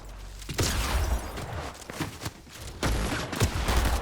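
Shredder shotgun fire in Fortnite Zero Build, a burst of close, punchy blasts in quick succession with a rough, uneven rhythm and a short pause before more shots.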